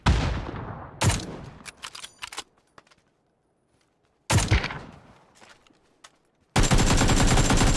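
AK rifle gunfire in the PUBG video game: loud automatic bursts at the start, around one second, near four and a half seconds and a sustained burst at the end, with quieter scattered shots in the gaps.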